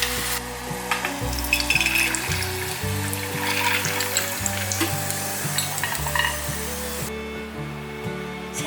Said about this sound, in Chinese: 炸到花生有稍微变色之后，就可以关火取出来了。